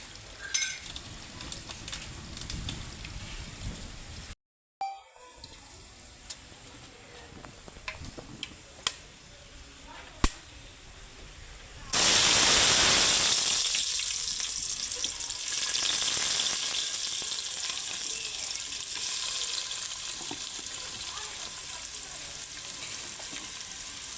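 Whole masala spices crackle and sizzle in hot oil for egg biryani, with scattered pops and clicks at first, then a loud, steady frying hiss that swells and holds to the end.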